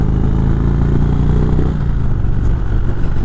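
A 2019 Indian Springfield Dark Horse motorcycle engine in Sport mode, a loud close low rumble that rises slightly around the middle and then settles, steady throughout.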